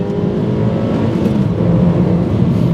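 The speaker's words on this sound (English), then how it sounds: "once you get it up to speed like this, then you can just go up and down, second and third gear" A 2007 Suzuki Swift Sport engine drones steadily and loudly from inside the car as it accelerates and shifts between second and third gear, with no talk.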